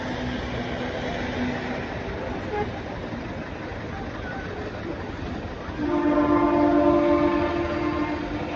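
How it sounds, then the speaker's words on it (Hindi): A passenger train on a hill rail line near Solan heading toward Shimla, rumbling steadily alongside a bypass, then sounding a long, loud horn blast that holds for several seconds near the end. "जो हॉर्न आपको सुनाई दे रहे हैं वो ट्रेन के हैं"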